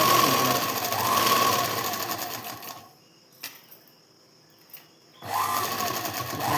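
A sewing machine stitches a blouse in two loud, steady runs, stopping for a quiet pause with a couple of soft clicks in between before starting up again.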